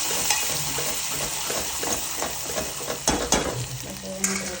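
Garlic cloves and spices frying in a pan for a mixed spring onion and tomato sabzi, a bright continuous sizzle with frequent scraping and clinking stir strokes close up, no talk.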